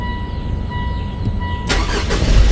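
A 2016 Mitsubishi Montero cranks and starts after a fresh drive belt replacement, a sudden broadband burst partway through that rises into a louder, rough engine roar close by, with a steady tone beforehand.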